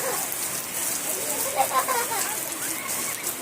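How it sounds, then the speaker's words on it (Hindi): Heavy rain pours over a park in a steady hiss, with wet splashes and faint children's voices mixed in the background. "बहुत तेज़ बारिश।"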